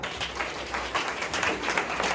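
Applause from an audience at a business success-plan event, honoring the committee MD and CMD; a dense, steady patter of many hands clapping at moderate volume throughout the short stretch.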